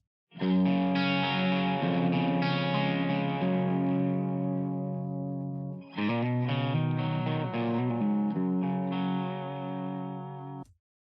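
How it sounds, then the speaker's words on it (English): An electric guitar played through a stereo reverb set up in mid-side configuration, ringing out loud, sustained chords in two phrases with a brief break between them and a gritty, effected tone. "I've got a project here with a guitar and a stereo reverb"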